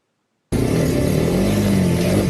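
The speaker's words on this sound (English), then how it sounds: "Now, watch the number of vehicles that are stuck on this road." Vehicles stuck on a crowded African road produce a close, loud, steady engine drone with a low idle hum. It cuts in abruptly after half a second of silence and holds constant, with no talking.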